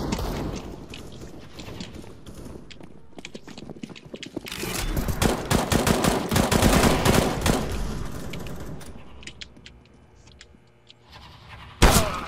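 Gunfire from the video game CS:GO, with bursts of rapid shots and clattering effects that swell in the middle, heard without speech.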